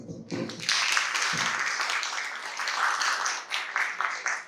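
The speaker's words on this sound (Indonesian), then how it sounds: "Selanjutnya berikan tepuk tangan." An audience at a business meeting for CV Salutary Sweet breaks into applause after a brief pause, a moderately loud spread of clapping from a mid-sized crowd that swells and then thins toward the end.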